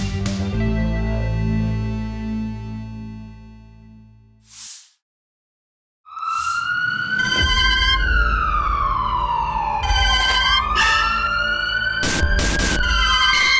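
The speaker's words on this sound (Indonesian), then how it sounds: "aku ke distract sama suara sirine dari sebuah peti hitam misterius di sudut sana" A loud, close electronic siren from a black box art installation at Galeri Nasional, Jakarta, wails, first a steady blaring tone, then after a brief silence a rising and falling sweep with sharp bursts.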